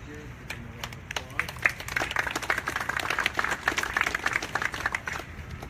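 An audience gives a round of applause for city councilors at a Springfield police announcement, a rapid patter of many hands that builds in the middle and holds fairly steady, with faint voices underneath.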